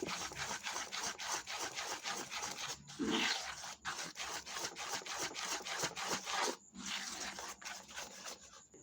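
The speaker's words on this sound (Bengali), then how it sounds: "সব কিছু দিয়ে এবার খুব ভালো করে একটু এভাবে মিশিয়ে নেবো" Cake batter of flour, a little baking soda and a pinch of salt being stirred in a bowl by hand, giving a steady rubbing, scraping rhythm of repeated strokes up close with a few brief pauses.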